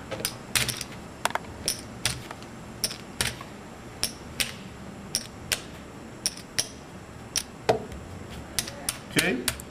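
Casino chips being handled and stacked at a blackjack table, giving a steady series of sharp clicking clacks at close range, with faint talk underneath.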